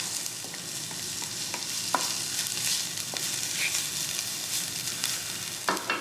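Finely chopped garlic and jalapeno cooking in a pan, a constant crackling sizzle with a few small clicks and taps of a utensil, close and even in level, no one talking.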